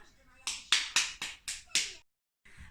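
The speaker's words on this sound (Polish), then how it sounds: "No rób brawo." A short burst of hand clapping, six sharp claps in quick succession, close and loud, followed by a pause and a faint final sound.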